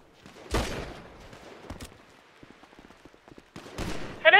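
Gunfire rings out in the FiveM multiplayer game, with a sharp loud burst early, a lone shot in the middle, a scatter of faint pops, and another heavy burst near the end.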